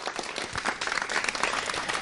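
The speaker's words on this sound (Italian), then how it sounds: "Un applauso." Applause breaks out at an outdoor village food festival honouring goat braciola and percoca peaches in wine, a dense patter of clapping holding steady for a couple of seconds at moderate distance.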